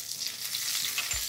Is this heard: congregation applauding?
no